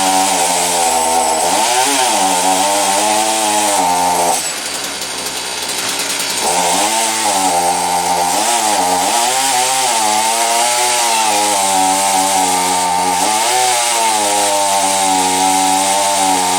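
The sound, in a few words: petrol chainsaw cutting wood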